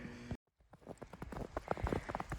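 A horse's hooves clip-clop close by, a quick irregular run of sharp knocks on a hard surface after a brief silence, growing steadily louder.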